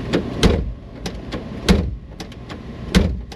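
A hand smacks repeatedly on the door of a Mercedes 380SL with a faulty window motor, giving sharp, uneven thumps and knocks, close and loud, with no voices.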